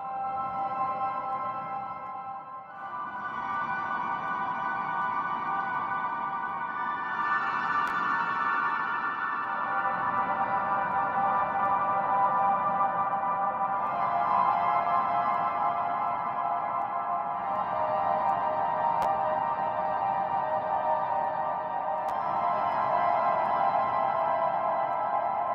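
A granular synthesizer produces a dense, shimmering texture with sustained harmonic layers washed in heavy, long reverb, shifting in timbre every few seconds, steady and loud throughout.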